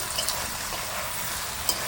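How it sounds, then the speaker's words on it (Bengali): Chicken, onions and vegetables stir-fry in hot oil for egg chicken chowmein, a loud, even sizzle that holds steady throughout with no talking. "এবার সবজিগুলো ভালো করে মিক্স করে নেবো চিকেনের সাথে।"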